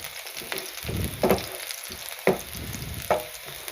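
Steady sizzle of something browning in ghee for a dhaba-style dal chana tadka, with a few sharper scraping stirs breaking through the crackle; close and fairly loud, no voices.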